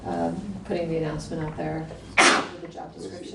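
One abrupt, sharp sneeze bursts out during a meeting, cutting in right after a person speaking in a calm, even voice.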